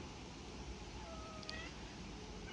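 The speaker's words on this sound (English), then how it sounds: "so that would be Shadow, my cat, who's just popped in because, you know, cats like all the attention" A pet cat that has wandered into a home office gives a soft, brief meow partway through, faint against a steady hum of room noise, with no one talking.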